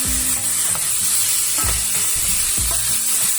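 Chicken pieces sizzle loudly in hot oil for adobo, a steady close-up crackle broken by several bursts of stirring and scraping in the pan.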